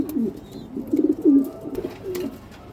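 Racing pigeons coo close by, several short throaty bursts in quick succession, soft rolling calls spaced across a couple of seconds against a quiet background.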